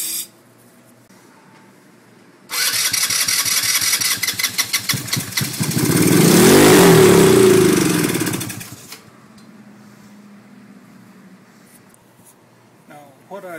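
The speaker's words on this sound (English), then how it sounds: "I'm going to squirt a little carburetor cleaner in there and just see if it'll pop off." A Twister Hammerhead 150 ATV, sprayed with carburetor cleaner, cranks with a rapid chugging starter, catches and revs loudly up close for a few seconds, then cuts out back to quiet.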